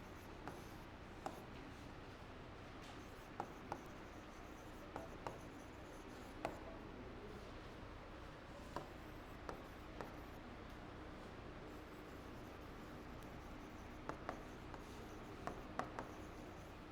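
Pen or chalk writing during a classroom lesson, a continuous faint scratching with occasional sharper taps, steady and close against a quiet background hiss.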